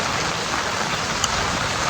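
Rain pours steadily during a monsoon-season outing, a loud, dense, continuous hiss of drops close by with no voices.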